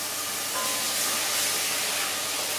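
Coconut milk hissing and sizzling in a hot pan with green curry paste for a Thai green chicken curry, a loud, steady, close wash of spitting and steam with no talking.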